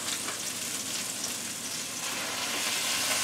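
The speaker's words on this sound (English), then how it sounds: "So I'm browning the meat." Ground beef browning in a pan gives a steady, even sizzle and crackle, close and moderately quiet, with no talking.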